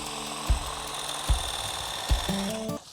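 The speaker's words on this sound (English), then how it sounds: "let me see if the hedge trimmer will take them down" A battery hedge trimmer cuts into thick hedge branches outdoors, a steady buzzing motor whine broken by three short thuds as the blades meet wood, then the motor pitch shifts near the end.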